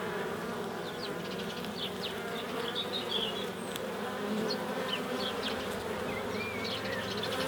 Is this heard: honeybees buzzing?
yes